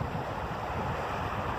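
Lake water pours steadily through a culvert into a brook, a broad continuous rushing wash that stays loud and even, with no voices over it.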